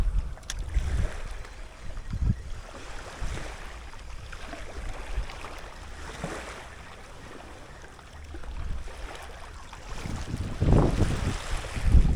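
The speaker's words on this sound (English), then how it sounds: "Wind is in the face, which is bad." Steady wind blowing against the face at a fishing spot on the Jamaican shore, a continuous low rush and rumble with gusts swelling and fading, no voices.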